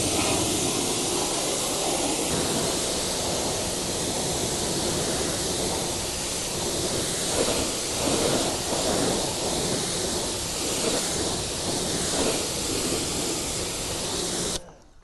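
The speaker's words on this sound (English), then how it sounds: "Now rinse down the whole wheel." Pressure-washer water spray rinsing down a car wheel during detailing, a loud steady broadband hiss with surging splashes against the rim, close by and without talk, cutting off abruptly at the end.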